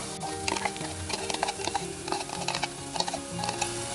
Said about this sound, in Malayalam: അപ്പോൾ അരപ്പ് ചേർത്തിട്ട് ഒന്ന് ആ പച്ചമണം മൂന്ന് വരെ ഒന്ന് വഴറ്റിയെടുക്കാം.